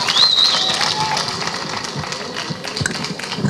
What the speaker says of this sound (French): Les applaudissements pour Bernice, mesdames et messieurs.